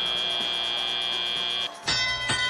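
An end-of-match bell sounds at a FIRST Robotics Championship: a steady bright electronic tone rings continuously, cuts out briefly, then returns with a sharp onset amid arena noise.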